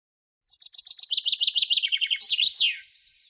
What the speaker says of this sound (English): These singing birds bring joy and beauty to our world.